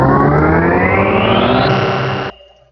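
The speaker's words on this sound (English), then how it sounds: "find the startup sound, which is sound one" Startup sound effect from the Pinball 3D video game: a loud, buzzy synthetic tone sweeping upward for about two seconds, then cutting off abruptly into a faint echoing tail.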